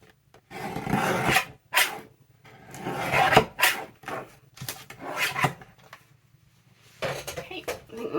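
A paper trimmer slices through packaging material at a desk while making junk journal pieces from trash, giving short rasping cuts in separate bursts with a person talking between them.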